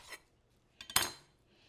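Kitchen knife cutting the root end off a medium yellow onion: a faint light tap, then two quick clicks and a sharper knock of the blade on the board, close and brief, with no talk.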